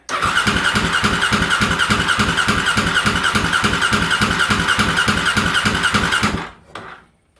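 A stored motorcycle engine cranks loud and close in a fast, even rhythmic churn that runs for about six seconds without catching, then stops abruptly into near silence.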